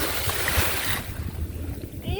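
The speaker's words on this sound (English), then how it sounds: "Did you see that splash?" Water splashing and rushing against a sailboat's hull at sea, a steady broadband wash with wind noise buffeting the microphone, fairly loud and continuous.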